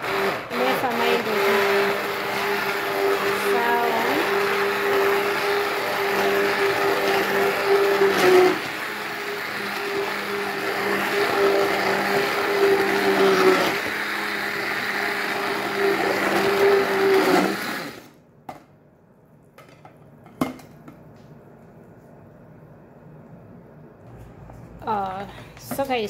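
An electric mixer whips banana with instant coffee in a loud, steady motorized whine with slight shifts in pitch for about eighteen seconds, then cuts off, leaving quieter kitchen clatter.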